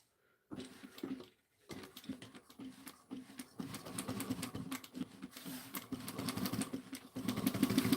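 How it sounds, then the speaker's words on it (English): A sewing machine stitches around a backpack piece in short bursts at first, then runs longer, rhythmic and fairly quiet, with brief pauses between passes. "we're just going to sew"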